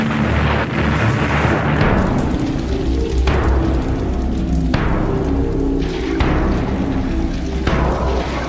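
Heavy bombs exploding during saturation bombing, a loud relentless sequence of deep booming blasts about every one and a half seconds, each rolling into a rumbling decay.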